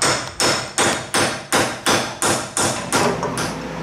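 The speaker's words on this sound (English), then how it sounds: "I usually use a hammer and this pointed chisel thing and knock it out." Steady, rhythmic metal hammer blows on a pointed chisel knocking a pinion out of a Jeep Dana 30 axle, about nine sharp strikes in a row, each ringing briefly, loud and close with no talking.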